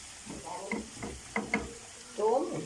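Garlic drops into hot oil for a liver dish, with short bursts of sizzle and spatter and a louder crackle near the end, fairly faint overall.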